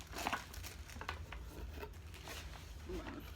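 A nail drill being pulled out of a small plastic bag: steady soft crinkling and rustling of thin plastic, close and quiet.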